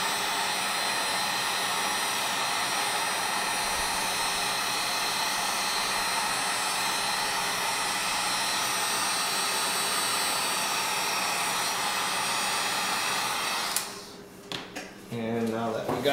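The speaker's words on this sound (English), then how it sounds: "we'll get our heat gun and we'll shrink them on" A heat gun blows a steady loud whirring roar while shrinking heat-shrink tubing on wiring for a 12-volt relay setup, running continuously before cutting off near the end with a few handling clicks.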